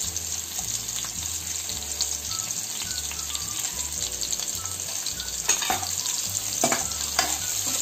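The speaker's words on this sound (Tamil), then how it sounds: "நம்மளுக்கு கொஞ்சம் வெங்காயம் சீக்கிரமாக வதங்கணும்னு சால்ட் கொஞ்சம் போட்டுக்கிறோம்." Onions frying with salt in a pan for a Cuddalore-style fish curry, a steady close sizzle with repeated stirring scrapes throughout.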